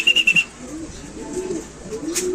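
A racing pigeon gives a short burst of three or four close, bright coos, then the rest drifts into soft, low outdoor background noise with a faint distant call near the end.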